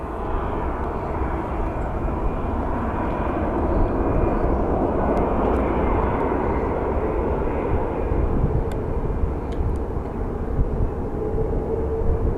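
A jet airliner on an Orlando-bound flight at Phoenix Sky Harbor International Airport roars steadily and loudly throughout, a broad, continuous engine rumble with no speech over it.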